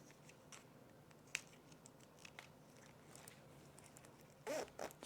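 Scissors snip straight through the coil of a jacket zipper while sewing a fleece jacket, giving a quiet crunch and a short double burst of cutting near the end over faint background noise.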